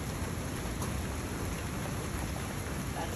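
Rain pours steadily during a thunderstorm, a dense, even hiss of drops on surfaces that stays constant throughout at moderate level, with no talking.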